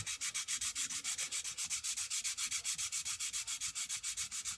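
Steady back-and-forth rasp of 400 grit sandpaper folded around a wooden tongue depressor, smoothing a worn part in even, rhythmic strokes, close and alone with no voices.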